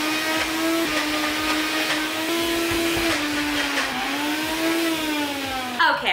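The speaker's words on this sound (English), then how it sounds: "Now we blend." A blender whirs steadily as it purées guacamole made with avocado, basil, garlic cloves and lemon juice. The motor drone is loud and close, shifting slightly in pitch as the load changes, then cuts off near the end.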